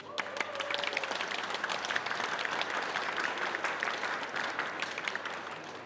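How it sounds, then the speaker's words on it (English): An audience gives a steady round of applause at a gallery art talk in Berlin, dense continuous clapping lasting several seconds with no talk over it. "please, before I do the introductions, one first round of applause"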